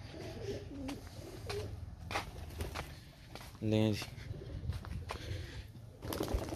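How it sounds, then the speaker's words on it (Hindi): A large white pigeon gives a brief, low, throaty coo close by, rising out of ongoing talk and handling noise. "ये देखें जी कितना प्यारा कबूतर है"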